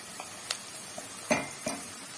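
Onion and carrot frying in a little vegetable oil, a soft steady sizzle broken by a few clinks and scrapes of a utensil against the pan, close and without voices.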